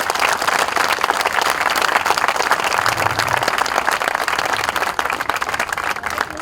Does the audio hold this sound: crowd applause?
yes